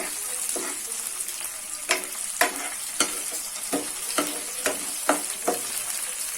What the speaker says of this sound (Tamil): மிளகையெல்லாம் வெடிக்கணும், அந்த அளவுக்கு நல்லா வதக்கிக்கலாம்.